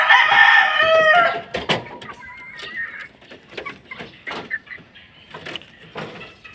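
Street comb chickens around three months old make a loud, close crowing call, then a run of scattered clucks and short squawks with brief pauses between them.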